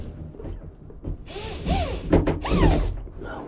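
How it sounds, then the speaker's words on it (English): A power driver whirs and spins up in short pulses while driving a screw into the bed of a truck camper build, the motor pitch rising and falling over a few seconds. "Let's throw a screw in here."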